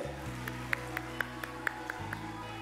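A studio audience on a televised Ramadan iftar show gives a few distinct, evenly spaced claps, fairly faint, over a low background hum.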